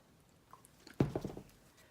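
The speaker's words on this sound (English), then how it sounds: "So I'm going to add some water" Water poured into Liquitex acrylic pouring paint, a short wet squishy splash lasting about half a second, close and fairly quiet, with a faint drip just before it.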